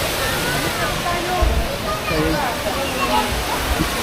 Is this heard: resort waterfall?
yes